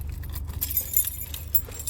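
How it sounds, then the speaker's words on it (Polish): A bunch of gate keys jangling close by in quick irregular chinks and rattles, with a low car or engine hum underneath. "ja mam klucze do bramy"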